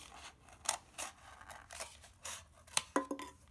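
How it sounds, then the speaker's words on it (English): Scissors snip and crunch through a styrofoam cup, cutting all the way around its side in a series of short, crisp, close-up cuts with brief pauses between them. "With the styrofoam cup, I'm just inserting my scissors into the side and then I can cut"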